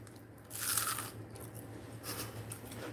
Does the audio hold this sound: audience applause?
no